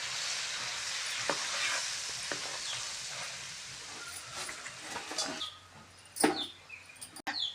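Curry leaves sizzle in hot oil with chicken pickle while a spoon stirs, giving a steady crackling hiss broken by sharp scraping clicks that fade toward the end.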